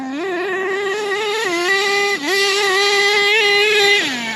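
An HPI Savage nitro RC monster truck engine runs continuously at close range, giving a loud, high buzzing whine that drops briefly several times as the throttle eases off and then revs back up, with no talking.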